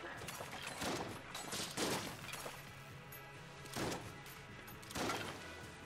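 The Zilla shotgun in the bullet-hell dungeon crawler Enter the Gungeon fires in spaced bursts, each a sharp, loud spray of blasts with brief quieter stretches between, while a voice talks underneath.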